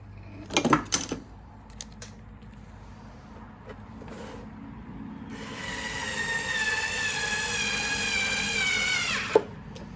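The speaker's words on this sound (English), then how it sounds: "Let's go ahead and throw a bolt in here." Metal clicks and clanks from a bolt being fitted into a Husqvarna 125B leaf blower during an impeller replacement, followed by a steady, fairly loud mechanical whine lasting several seconds that ends in a sharp click.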